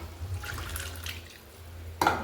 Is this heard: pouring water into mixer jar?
yes